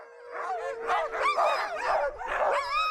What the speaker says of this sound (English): Lead dogs like Clara and Inari are the extended arm of the musher and the most important animals on the team